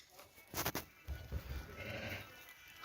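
Sheep bleat a couple of times nearby, short wavering calls against a quiet outdoor background with faint rustling.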